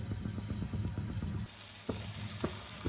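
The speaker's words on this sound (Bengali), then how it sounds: "ঢাকা দিয়ে আমি ভাজবো।" Fish curry frying in a covered pan, a steady close sizzle with rhythmic low scraping strokes in the first half, then continuous hiss broken by a couple of sharp clinks.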